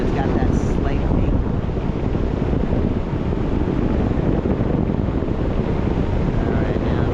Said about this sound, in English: So our best wind direction is straight out of the west.